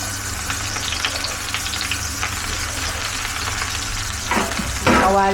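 Food sizzles and crackles steadily in a hot pan, with a few sharper scraping stirs toward the end.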